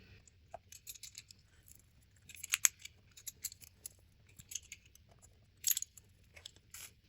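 Dough pieces being cut with scissors or a knife in a home kitchen, a string of crisp snips and light clicks that bunch into short bursts, close and fairly quiet over a low steady hum, with no talking.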